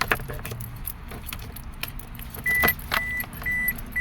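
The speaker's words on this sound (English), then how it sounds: "Put the key in the ignition." Keys jangle and click as a car key goes into the ignition of a 2005 Toyota Passo, followed by a few short electronic chimes, close and brief.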